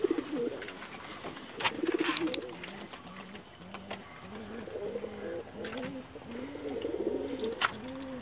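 Pigeons in a pet shop give repeated low, rolling coos one after another in a steady rhythm, fairly close, with sharp clicks and knocks from the shop scattered between them.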